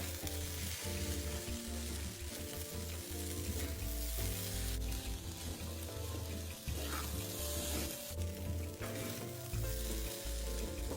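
Drained red beans stir-fried in a wok with rice for zongzi filling, giving a faint continuous sizzle with steady scraping and tossing strokes throughout.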